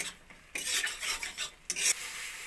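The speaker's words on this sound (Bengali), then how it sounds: "জল দিয়ে ভালো করে মশলাগুলো একটু কষিয়ে নেব।" A spice masala with a little water being stirred and sautéed in a pan for chickpea ghugni, heard as close, irregular scraping and rubbing strokes over a soft sizzle.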